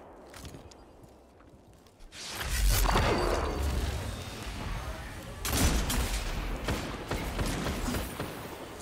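Muffled explosions and gunfire ring out in a fast video game firefight, a thrown grenade among them, with the noise building sharply after a quiet start and swelling again midway, dense and loud throughout.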